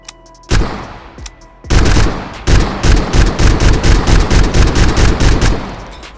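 An AN94 rifle fires in the VR shooter H3VR, loud and close: a couple of single shots, then a heavy burst, followed by a rapid run of evenly spaced cracks, all alone with no voices.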